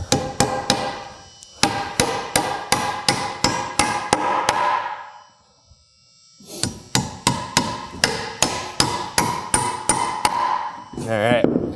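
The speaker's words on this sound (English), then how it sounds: "we're gonna take our kink stud right up next to it and go ahead and nail that in place" Hammer driving nails into a wood wall-framing stud, a king stud set beside a shoulder stud, in two quick rhythmic bursts of sharp close strikes separated by a brief pause.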